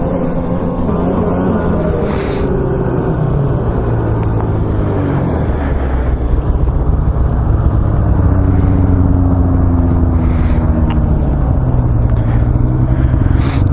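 A Polaris Assault snowmobile engine runs loud and close in steady use on a warm day, its drone rising and falling in pitch as the throttle shifts.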